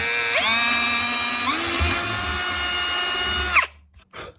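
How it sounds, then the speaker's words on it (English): A power drill whines steadily at high speed while drilling a hole in wood, pitch dipping briefly as it bites, then spins down and stops, followed by a couple of clunks. "I'm gonna take a drill and drill a hole that's bigger than the blade of the jigsaw"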